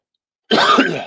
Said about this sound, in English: sorry, a bit of a cough